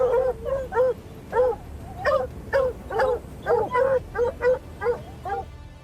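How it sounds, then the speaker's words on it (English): A hunting pack of dogs bays furiously at a puma cornered up on a safe perch, giving a dozen or so sharp, rhythmic yelping barks in quick succession, loud and close. "The dogs bark furiously, trying to force the cat down from its safe perch."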